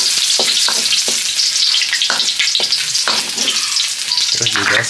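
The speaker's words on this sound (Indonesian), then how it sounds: "Ini aku bakal tuangin minyak buat numis, jadi nggak usah banyak-banyak. Ini aku bakal tambahin bawang merah sama bawang putih." Shallots and garlic sauté in a shallow pour of oil with a loud, close sizzle, broken by repeated scraping stir strokes from a spatula at a loose, uneven rhythm.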